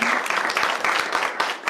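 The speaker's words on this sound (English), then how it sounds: "Let's give a round of applause." A crowd at a weekly student senate meeting claps steadily for a short burst of applause, heard up close and without any talk.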